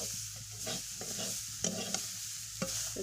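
Leafy greens being stirred as they fry in a wok: scraping, stirring strokes over a steady soft sizzle, with a few sharper clinks of the utensil against the pan, close by and no talking.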